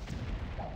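A cannon shot explodes in the online game Ultima Online during a naval ocean battle, a dense low rumbling boom that fills the whole short moment at moderate loudness.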